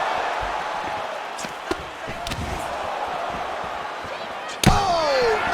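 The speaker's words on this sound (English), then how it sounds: "massive head kick there" A loud slam-like impact from a head kick in a UFC fighting video game lands over steady arena crowd noise and game commentary, followed by a brief sweeping whoosh.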